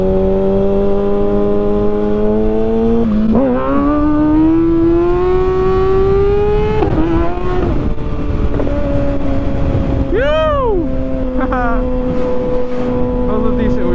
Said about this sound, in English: That was a decent wheelie.